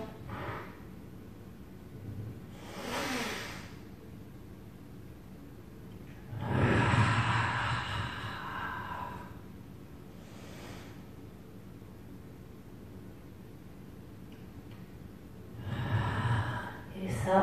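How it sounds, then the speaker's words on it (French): Deep breathing during a Pilates wellness class: several slow, airy inhales and exhales, spaced seconds apart, close and fairly soft against a quiet room. "Je vous fais entendre la respiration."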